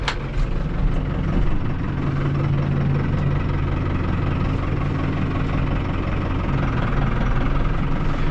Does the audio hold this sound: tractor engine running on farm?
yes